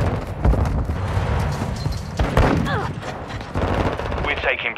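Rapid automatic rifle fire, AK-47 style, in Call of Duty Modern Warfare II multiplayer on the Shoothouse map. Loud bursts of gunfire repeat in dense volleys over game noise, with brief lulls, a radio-style voice and game chatter underneath.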